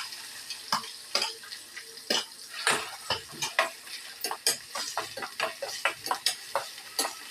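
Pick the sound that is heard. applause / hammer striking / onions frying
onions frying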